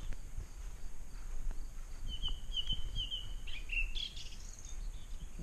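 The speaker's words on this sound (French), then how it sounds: "vous entendez des concerts d'oiseaux" A bird sings outdoors on rural land, short bright chirps and trills in bursts midway through, fairly distant over a soft background hum of insects and wind.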